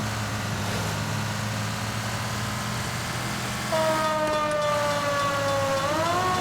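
A fire truck siren in a video game wails in rising and falling sweeps over a steady low engine drone, growing louder partway through.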